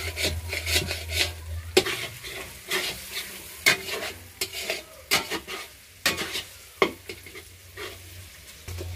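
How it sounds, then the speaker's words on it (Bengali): Spice paste fried and stirred with a spatula in a pan at an outdoor picnic in Digha, with repeated scraping strokes and a soft sizzle in an uneven rhythm over a low steady hum. "মশলাটা আগে কষে নিচ্ছে"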